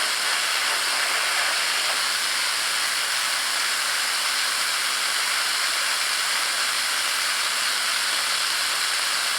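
A coolant mister sprays steadily from its nozzle, making a loud, constant broadband hiss that stays even and close throughout with no pauses.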